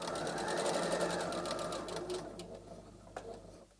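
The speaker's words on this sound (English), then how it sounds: "I'm just gonna leave that right there and sew all the way to the other corner." A sewing machine runs steadily while stitching along the collar of a polo-shirt-style summer dress, a close, continuous whirring that eases off toward the end.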